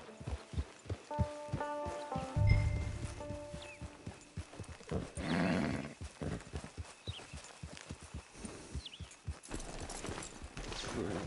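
Rhythmic clip-clop of horse hooves at a steady walk in Red Dead, close by, with a brief snort and some ambient game sounds in the background.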